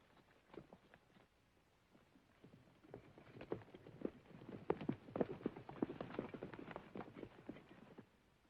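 Irregular clip-clopping of hooves, several horses moving at a walk, growing busier and louder partway through, with no voices.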